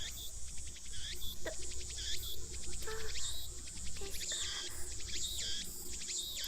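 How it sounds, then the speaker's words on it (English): Shrill, rapid insect chirping in repeated pulsing bursts, continuous and fairly close, with no voices. "The only sound is the chirping of cicadas."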